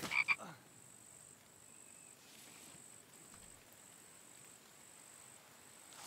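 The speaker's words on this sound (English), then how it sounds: "That's a frog, but I'll get him." A frog croaks in a video game with goats and a barn, one short burst near the start over a steady insect-like chirring ambience.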